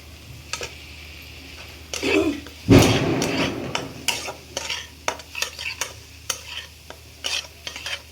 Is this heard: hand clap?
no